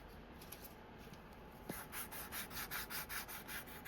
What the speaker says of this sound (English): and we will take our 400 sandpaper,